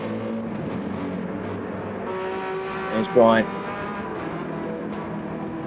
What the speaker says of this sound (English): Lovely sounding car, that AMG.